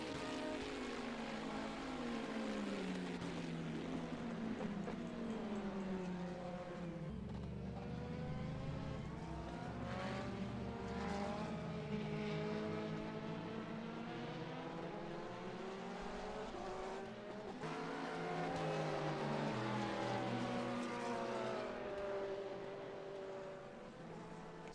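Ferrari race cars in a sim racing game at Silverstone hold a continuous high-revving engine whine, pitch sliding up and down through gear changes and corners, loud and steady throughout with no voices.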